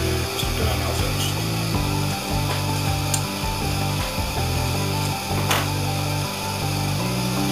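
Metallic scraping and rattling clicks as the regulator is unscrewed from an Optimus Nova stove burner unit, steady and close over a loud constant background hum.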